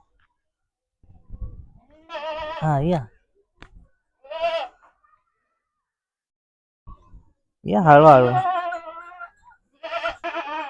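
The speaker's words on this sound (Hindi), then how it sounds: "तर ही शेळी आहे बकरी बकऱ्या पण आहे" Goats and a billy goat in a tribal village in Madhya Pradesh give several short wavering bleats at mid distance, mixed with people talking nearby.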